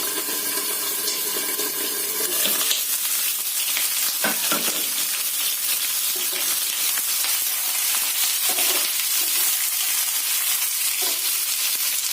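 Pointed gourds stuffed with a paste of cashews, raisins, onion and tomato fry in a pan with a loud, continuous hiss and crackle, with occasional stirring knocks.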